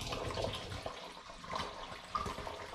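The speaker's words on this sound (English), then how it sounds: "And then I carry on and pour the rest of this in." Liquid for a cranberry hard cider is poured through a filter, making a quiet, steady trickle and splash with small gurgles, and nobody speaks.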